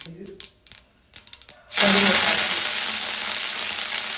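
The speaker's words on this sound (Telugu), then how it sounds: "నూనె కూడా హీట్ ఎక్కింది తాలింపు గింజలో మిరపకాయలు వేసాము" A few light taps and clicks, then a sudden loud burst of sizzling as chilies hit hot oil, crackling steadily to the end.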